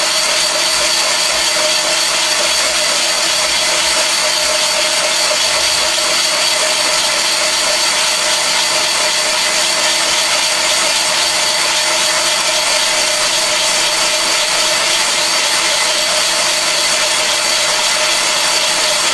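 A Van Norman boring bar cutting an engine cylinder gives a loud, steady, unbroken machining drone that stays even for the whole stretch, with no voices.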